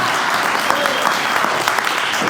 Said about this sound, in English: have a round of applause for Tone,